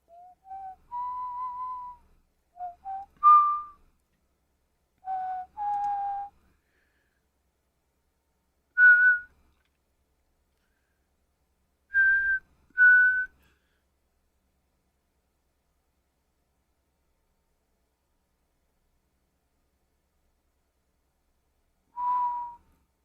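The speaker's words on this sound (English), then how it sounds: "As soon as I whistled it" A person whistles a short melody in separate clear phrases with long silent gaps between them, close and alone in a quiet room.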